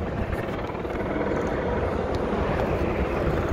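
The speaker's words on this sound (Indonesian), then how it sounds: "Helikopter juga di atas." A helicopter flies above a quiet downtown San Francisco street with boarded-up shops, producing a steady, moderately loud rotor thrum with no talk.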